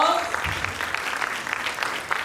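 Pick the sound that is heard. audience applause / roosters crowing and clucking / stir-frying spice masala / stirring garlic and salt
audience applause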